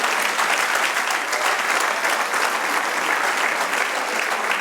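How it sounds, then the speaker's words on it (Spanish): A church audience at a Spanish-language service applauds steadily, the dense clapping filling the room at an even level for nearly five seconds. "Denle un aplauso al Señor"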